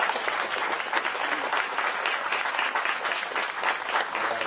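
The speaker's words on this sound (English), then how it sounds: "A big round of applause for our keynote speaker today, Caesarina Lomawema." A room full of people applauds a keynote speaker at an afternoon session on honoring, healing and remembering: steady, even clapping throughout, moderately distant and with no talking over it.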